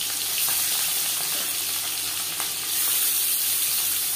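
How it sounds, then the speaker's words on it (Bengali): Marinated hilsa fish frying in hot mustard oil, a steady, dense sizzle that crackles close by and holds without pause. "সরষের তেল গরম করে নিয়েছি। দিয়ে দেবো ম্যারিনেট করে রাখা মাছ।"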